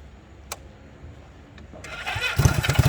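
A classic 1968 Honda CD175 Super Sport motorcycle engine cranks after a quiet lead-in with a couple of small clicks, then fires and catches, rising to a loud, close, throbbing idle in the final half second.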